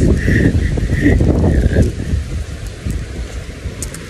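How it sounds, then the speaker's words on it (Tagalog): Thunder rumbles low and broad under rain and wind noise, fading after a couple of seconds. "Uy, kulog."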